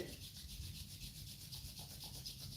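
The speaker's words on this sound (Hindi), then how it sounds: "दोनों हाथों को रब कीजिए" Two palms rubbed together steadily during a breathing exercise, giving a continuous soft swishing friction that stays even throughout, close and quiet with no voices.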